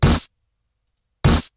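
Two short, punchy snare hits about a second apart with silence between, from a simple snare pattern in an FL Studio beat. The hits are dry and even, with no voices.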